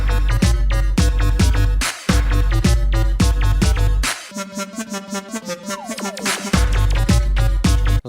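Pounding electronic club music with a heavy, steady four-on-the-floor kick, briefly breaking down to a rising synth passage before the beat slams back in.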